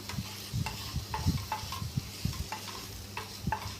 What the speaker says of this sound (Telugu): మూత ఓపెన్ చేసి బాగా అయితే కలుపుకోవాలి లేదంటే కింద అడుగంటిపోతూ ఉంటుంది